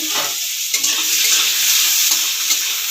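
Chopped carrot dropped into hot oil for soya chow, giving a loud, bright sizzle that carries on throughout, with a few stirring scrapes and taps close by.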